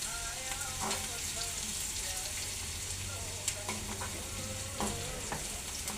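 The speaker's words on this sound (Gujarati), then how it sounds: "પછી એને થોડું પાકવા દેવાનું તેલમાં" Dried garlic frying in hot oil, a steady close sizzle and crackle throughout with occasional scrapes and pops of stirring.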